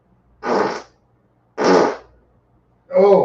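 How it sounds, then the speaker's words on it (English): Three separate farts in a row, each short, loud and close, with brief silences between and no talk. "I got to fart again."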